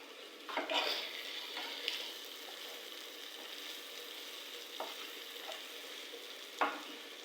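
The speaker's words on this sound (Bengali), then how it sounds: "ভেজে নিচ্ছি" Food fries in a pan over a lowered flame, giving a soft, steady sizzle with occasional faint scrapes and clinks of a utensil, fairly quiet and close.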